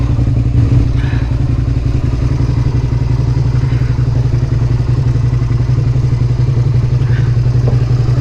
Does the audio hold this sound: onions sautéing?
no